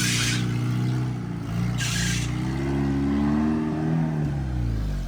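An off-road vehicle engine strains steadily while driving off-road near a Rubicon, a loud continuous drone with shifting pitch and brief bursts of rushing noise, with no talk.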